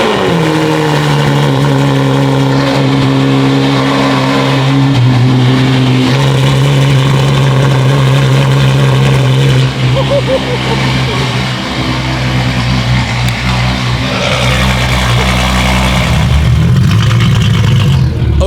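Straight-piped V12 Ferrari engine starting and revving, a very loud, sustained shrieking exhaust note with rising and falling revs, close up throughout.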